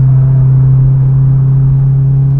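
A high-mileage Honda Civic EP3 Type R at 215,000 miles is heard from inside the car on a race track. Its engine holds a steady, loud drone in fifth gear with a constant low hum and no shifts.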